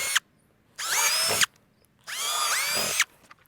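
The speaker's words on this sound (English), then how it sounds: "And now just increasing our drill size to about 10 mil drill bit." Two bursts of a power drill fitted with a 10 mm bit boring holes during a Toyota LandCruiser 300 Series dual battery install, each whine rising then cutting off after under a second, loud and close with no talk.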